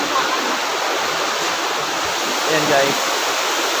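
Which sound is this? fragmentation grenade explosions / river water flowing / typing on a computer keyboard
river water flowing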